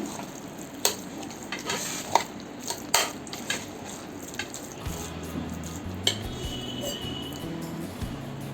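Curd rice made with yogurt is mixed by hand in a vessel, giving soft wet squelching with sharp clinks of a utensil against the pot, steady and close with no talking.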